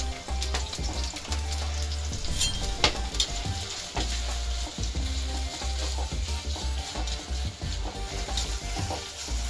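Shallots sauté in a pan for a crab masala, a loud, close, steady sizzle broken by frequent scraping and clinking spatula strokes against the pan.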